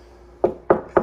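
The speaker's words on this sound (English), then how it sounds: "Knock on wood" Three sharp knocks on a wooden surface, evenly spaced and close by, with no talking over them.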